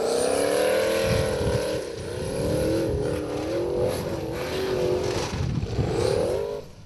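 A formula offroad race car at Stapafell, Iceland, its engine droning loud and close with wavering revs and repeated surges as it drives the course.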